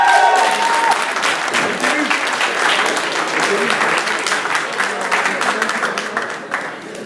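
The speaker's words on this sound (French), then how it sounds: "Applaudissez-les." Sustained audience applause at a scenic improv match, loud and dense from start to finish, with clapping fading slightly toward the end and some voices mixed in.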